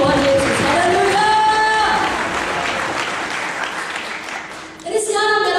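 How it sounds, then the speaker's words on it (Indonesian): Clapping from a crowd at a church seminar in Kupang fills the space, with a sustained tone or singing layered over it and a brief dip before the clapping swells again. "Kalau tepuk tangan untuk Tuhan Yesus."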